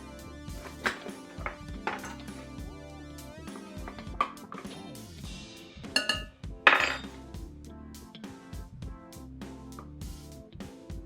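A metal teaspoon clinks and taps repeatedly against a mixing bowl holding spices for pumpkin cookies, a busy run of bright close knocks with a few sharper ringing strikes.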